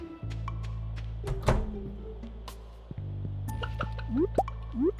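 Watering crops in the farming video game Stardew Valley: a string of crisp droplet plinks and soft squishy splashes, followed by quick rising bubbly fill tones near the end, over a quiet steady background.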